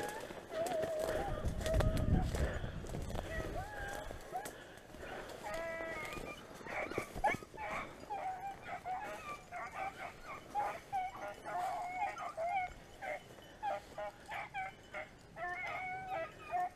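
A pack of beagles bays and yelps on a rabbit chase, several dogs giving repeated overlapping calls at moderate distance, with a brief louder rumble near the start and outdoor background.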